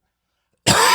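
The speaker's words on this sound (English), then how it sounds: "I've been having a bit of a nasal drip causing me to cough all the time" A single harsh cough, brought on by nasal drip, bursts out close and loud after a stretch of silence.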